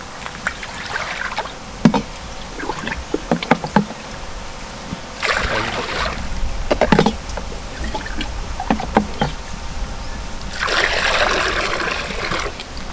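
Water poured into a vessel for making sesame candy, a series of soft trickling and splashing bursts with pauses between pours, close by in a quiet kitchen-like setting.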